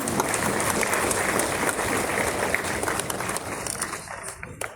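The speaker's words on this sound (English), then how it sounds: "a round of applause for them" A crowd applauds badminton players at a National Sports Day felicitation event; dense, loud clapping throughout, thinning and fading toward the end.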